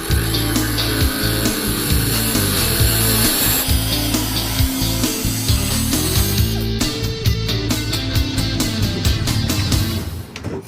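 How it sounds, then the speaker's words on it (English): A power tool cuts a rectangle out of a car's steel frame, loud and continuous with a steady grinding, rasping drone and rapid repeated strokes near the end, with no talking. "I'm gonna cut out this rectangle and hope that I got it in the right spot"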